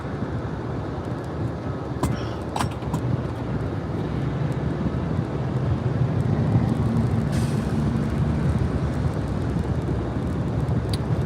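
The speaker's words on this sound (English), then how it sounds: "Let me get away from this big old truck" A big truck with air brakes passes nearby on the road: a loud, steady engine and road roar runs throughout, with a few sharp hissing bursts from the brakes.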